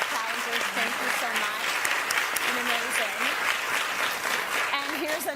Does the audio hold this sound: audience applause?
yes